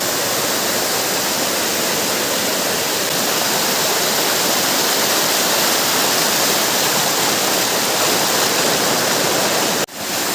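Dumkanusa waterfall in Kendujhar, Odisha, pouring steadily in a loud, dense, unbroken rush of falling water that fills the whole stretch and cuts off abruptly at the end, with no voices.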